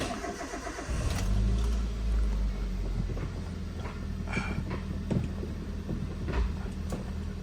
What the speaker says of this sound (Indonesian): Kita hidupkan sambil kita lihat suaranya.